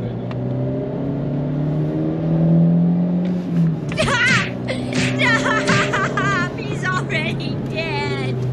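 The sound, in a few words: used car engine revving while driving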